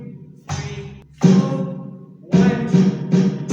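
Drum triplet fill played with single strokes alternating right and left hands, sounding as several separate bursts of struck hits at a steady rhythm, close and fairly loud with no talking.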